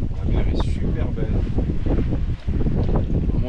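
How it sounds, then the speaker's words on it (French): Light wind blows steadily across a sailboat crossing the open sea at night, a constant close rush of air and microphone buffeting with water wash beneath, no clear voices. "Il y a un petit vent, un petit vent sympa."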